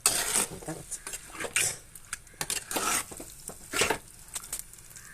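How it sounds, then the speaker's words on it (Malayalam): Small sardines stirred in a pan, with clattering spatula strokes and metallic scrapes over a light sizzle, close by, ending as a lid is set down; no talking. "ഒന്ന് ഇളക്കി കൊടുത്തിട്ട് ഒന്ന് മൂടി വെച്ചാൽ, മൂടി ഇങ്ങനെ വെച്ചോ"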